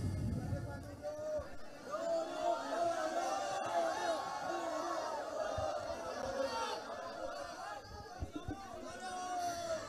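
A large crowd of young people at a public discussion event with Anies Baswedan fills the space with steady, loud overlapping chatter and shouts, a continuous hubbub throughout.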